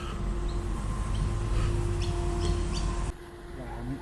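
Several birds chirp in short bright bursts over a steady outdoor city hum in Sydney, Australia, the scene cutting abruptly quieter near the end.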